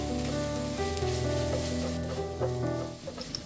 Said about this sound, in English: Sauté this together, then season with a bit of salt and pinch of turmeric powder.